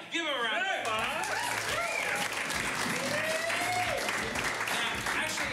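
A live comedy show audience breaks into a round of applause, a steady crowd clapping with cheers and whoops rising over it and a host's voice talking through the noise.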